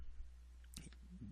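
A single quick computer mouse click sounds as the Submit button is pressed, a short, crisp tap against a quiet room with faint murmuring nearby.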